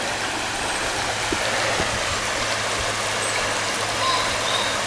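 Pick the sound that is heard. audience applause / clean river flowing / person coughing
clean river flowing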